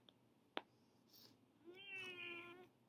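A single cat gives one clear, drawn-out meow after a sharp click and a faint earlier murmur, heard close but soft in a quiet room.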